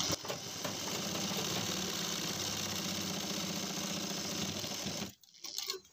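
A sewing machine runs continuously, stitching a pajama pocket with a steady, close mechanical whir, then stops with a few faint handling sounds.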